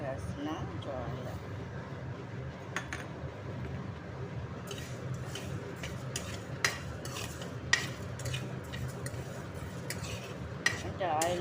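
Coriander seeds and cumin dry-roasting in a pan without oil while being stirred, giving soft scraping, rattling and light clinks under a person talking, with a few sharper knocks.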